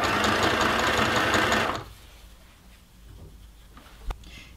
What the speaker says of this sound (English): I'm going to use a straight stitch on the sewing machine to stitch it on.